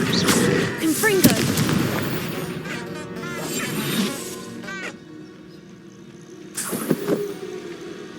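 A Confringo blasting spell goes off in Hogwarts Legacy, with sharp explosive bursts near the start and again near the end over a busy game soundscape, and a voice speaks briefly.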